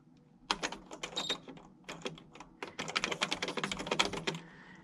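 Keys clack on a Sears 10k40 daisy wheel electronic typewriter in a quick, uneven run of sharp strikes, starting sparse and growing into a dense burst, close and fairly quiet with no talk.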